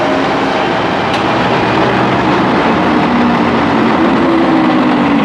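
A train rumbles past close by on a Bangkok-area line near Srinagarindra Road, a steady loud roar of wheels and engine filling the whole stretch without a break.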